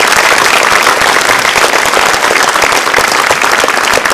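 An audience at a film-festival Q&A after a screening bursts into loud, dense applause, many hands clapping in a continuous roar that holds steady from start to finish.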